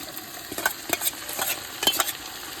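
Ginger and green chili sizzle and crackle in a hot frying pan of oil for Gujarati dal-baati, with scraping stir strokes and irregular spitting pops up close and no talk.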